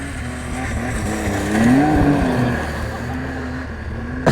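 Snowmobile engine revving up and settling back, a rising and falling motor drone that swells in the middle, with voices talking over it.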